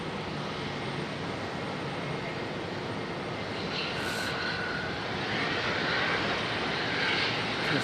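An Alaska Airlines airliner arrives at Raleigh-Durham International Airport, its steady broadband jet roar filling the whole stretch and swelling slightly louder toward the end as it draws nearer.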